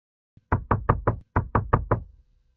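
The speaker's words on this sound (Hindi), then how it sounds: "अचानक दरवाजे पर पुलिस दस्तक देती है" Eight sharp knocks on a hotel room door come in two quick sets of four, close and loud, with nothing else heard.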